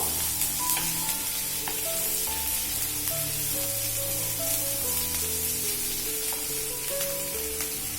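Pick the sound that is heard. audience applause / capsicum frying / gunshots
capsicum frying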